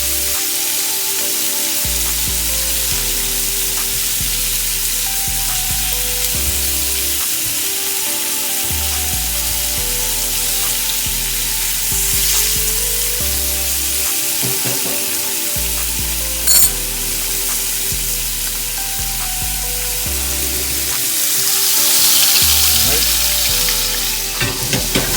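Shrimp sizzle and fry in a pan while being flipped for fettuccine Alfredo, a loud, continuous crackling hiss running throughout with occasional scrapes and clatter of turning.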